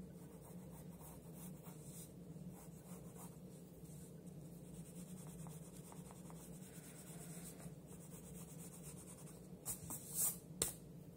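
A light pencil moves over paper while a human body is sketched in proportion, giving a steady, soft, continuous scratching and rubbing close to the mic, with a few sharper strokes near the end and no talking.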